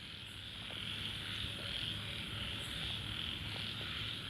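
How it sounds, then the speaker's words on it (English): A frog chorus calls in a dense, continuous pulsing wash at low level, with cricket-like insect trills mixed in and no voices. "There's something trance-like about frog choruses."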